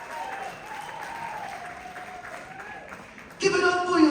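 Concert crowd applauding at a tribute band show in North Carolina, a steady roar of clapping and cheers that swells louder near the end, with amplified sound and voices mixed in.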